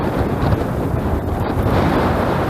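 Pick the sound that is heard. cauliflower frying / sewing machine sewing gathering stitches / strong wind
strong wind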